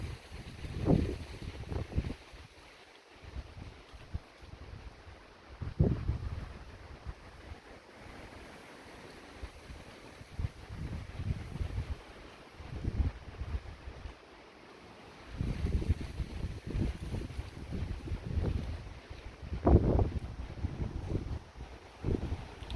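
Irregular gusts of wind during a moderate thunderstorm buffet the microphone in rough low bursts, with surf and water washing in the background.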